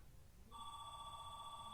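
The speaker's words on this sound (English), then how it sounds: "Phone calls coming in." A telephone rings with an incoming call, a steady electronic bell tone starting abruptly after a short quiet moment and continuing loudly to the end, alone without talk.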